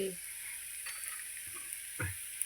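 Chopped coriander is stirred into a taro leaf and moong dal curry in a pan. A faint sizzle runs throughout, with a few soft spoon scrapes and clinks, the clearest just after the two-second mark.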